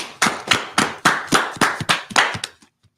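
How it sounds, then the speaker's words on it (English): A small audience claps in a steady run of about ten sharp, separated claps over a couple of seconds, fairly close and loud, then stops into silence. "All right, clap it up."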